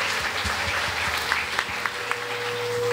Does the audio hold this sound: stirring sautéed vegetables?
no